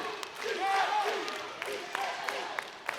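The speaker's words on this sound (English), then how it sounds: "And the crowd is chanting." A crowd at a professional pickleball (PCL) match chanting and cheering, a broad, somewhat distant roar with scattered claps and shouts, slightly swelling, under a faint voice.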